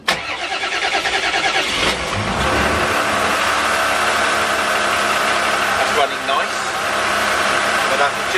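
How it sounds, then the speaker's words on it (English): A motor boat's engine is cranked and catches after a fuel filter change, then runs at a steady, loud mid-pitched idle with a rough note throughout, close by and without a break. "So I turn the key to our ignition, select station, and then crank."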